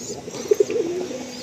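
Pigeons of an older breeding line coo a couple of times up close, two short soft calls followed by a longer rolling coo over a light background hiss.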